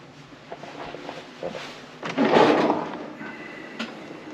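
Drawers in a cruise ship cabin desk on an MSC Seashore slide open and shut, a short wooden rumble and thump rising midway through, with quieter clicks and knocks before and after.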